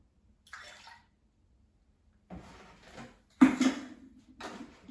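Milk is poured into a whisked baked-oatmeal mixture in short liquid bursts, three separate pours with quiet gaps between them, the last one the loudest.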